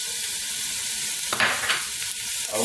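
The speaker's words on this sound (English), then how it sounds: "in goes that sliced onion" Sliced onion hits warm olive oil in a soup pot over a medium flame and sizzles steadily, with a brief clatter of stirring midway through. The frying hiss stays close and constant, and no one speaks.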